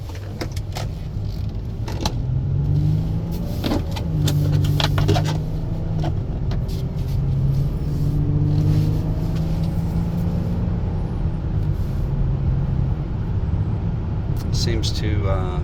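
A 2018 Honda Odyssey van drives along a road, its cabin filled with a steady low engine and road hum, with scattered knocks and rattles from bumps and a short fuller swell toward the end.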